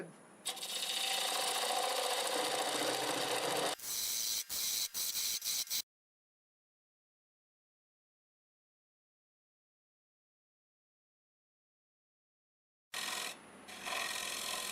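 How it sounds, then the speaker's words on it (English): A half-inch bowl gouge cuts into spinning maple on a wood lathe at about 860 rpm, giving a loud, steady rasping scrape for a few seconds. Choppier cuts follow, then silence, and the rasping returns near the end. "Start with my 1/2-inch bowl gouge. Start removing material."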